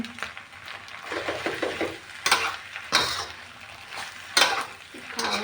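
Wide rice noodles stir-fried in a pan with pork, egg and kale, heard as a close, continuous sizzle broken by repeated scraping and tossing strokes of the spatula.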